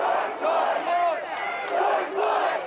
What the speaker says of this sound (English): Hundreds showed up outside the Asbury Park post office for the Monday night protest